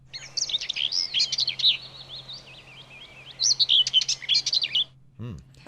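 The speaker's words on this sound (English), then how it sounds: "that's definitely birds" Birds chirp and tweet in quick, bright bursts, one run of calls and then a second busy flurry after a short lull, with a low steady hum beneath, played as a round in a sound-guessing game.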